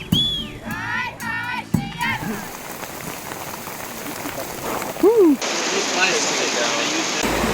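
Steady rain hissing and pattering on surfaces during a motorbike trip across Romania, a broad continuous wash that runs throughout, with a few brief voice-like chirps near the start and midway.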